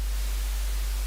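Unfiltered synthesizer noise layered under a bass sound, a flat, steady hiss of bright white noise that holds evenly and alone for about a second.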